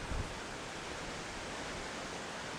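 Wind blows steadily across an outdoor grill set on high, a constant broadband rush of wind buffeting the microphone with no speech.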